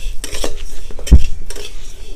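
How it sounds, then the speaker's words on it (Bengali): Yellow dal is stirred in ghee in a wok, with loud metal spoon scrapes and knocks against the pan, one sharp clank standing out and only a faint sizzle beneath. "কড়াই ঘি দিয়ে দিয়েছি, ঘিয়ের মধ্যে দিয়ে দিলাম, দিয়ে এটাকে একটু নাড়াচাড়া করে ভেজে নেবো।"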